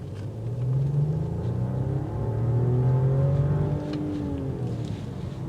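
A 2022 Mercedes-Benz S500 sedan under full throttle gives a muted, low engine rumble that swells and climbs in pitch, then eases off, heard from inside the cabin.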